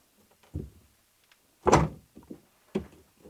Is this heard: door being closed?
yes